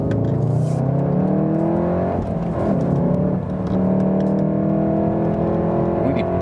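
A 310 hp VW Golf R facelift with all-wheel drive revs hard on a racetrack, its engine note a loud, steady whir with rising and falling pitch throughout.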